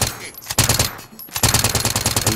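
Rapid, loud automatic gunfire in the video game Rebirth rattles out in close bursts, a short pause and then a sustained rhythmic stream of shots.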